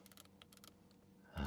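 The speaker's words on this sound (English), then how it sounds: "now they are bringing back the scroll wheels, and they even scroll clicking sound" Steering-wheel scroll wheel in a 2026 Audi RS5 clicking in a quick, soft series of close ticks, quiet in the cabin, followed by a sudden louder rush of noise at the end.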